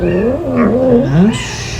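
A cat yowls in a long, wavering cry that rises and falls for nearly two seconds, loud and close, with no talking over it.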